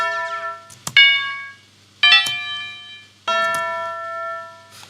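Bell sounds from a trap music template: three bright, ringing bell strikes with sustained harmonic tails, evenly spaced about a second apart, clear and alone.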